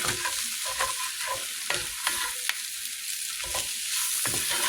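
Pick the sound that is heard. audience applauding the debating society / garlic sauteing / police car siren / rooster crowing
garlic sauteing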